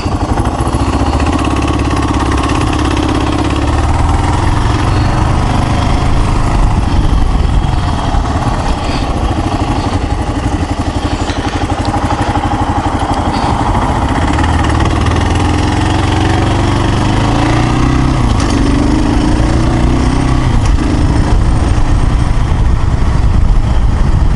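A Kawasaki KLR 650 motorcycle engine idles steadily and loudly up close, a constant rumbling chug that fills the whole stretch with no one talking.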